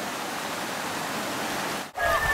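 A cold, clear river flows over stones in the Peak District, a steady rushing wash of water that holds evenly, dips for a moment near the end, then swells back.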